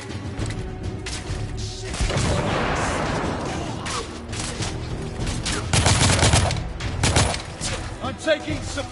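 Gunfire in the video game The Order 1886, heavy automatic bursts and blasts stacking into a chaotic firefight, loud and close, with shouted voices mixed in.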